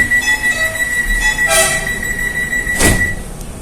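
A train passing at Manggarai station in Jakarta, with loud continuous rumble and high metallic wheel squeals that peak twice in quick succession, close by and alone without talk.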